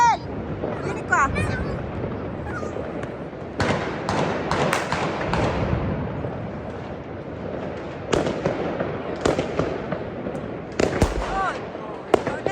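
Guns are fired in celebration of New Year, with sharp bangs and thuds going off irregularly, near and far, under ongoing talk.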